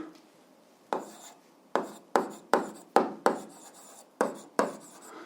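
A pen scratches out a physics formula for kinetic energy in about eight short, crisp strokes spaced unevenly, close and fairly quiet, with no voices.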